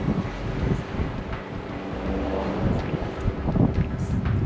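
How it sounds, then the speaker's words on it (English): Gusty wind buffets and rumbles across an outdoor microphone on a Scottish Highlands hilltop, a low, uneven roar rising and falling with no clear speech. "A little bit windy today"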